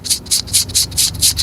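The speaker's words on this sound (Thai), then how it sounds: "อันนี้คือผมเอานิ้วปัดอยู่นะครับ เสียงประมาณนี้นะครับ" A finger brushes back and forth across a BLAISE GT1 Bluetooth headset mounted on a hard motorcycle helmet, making six or seven rhythmic, scratchy rubbing strokes, close and fairly loud.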